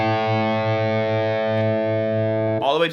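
An electric guitar chord rings through a Friedman BE100 Deluxe amp set to a dark, thick tone with the highs cut, sustaining loud and distorted before a short pick scrape at the end.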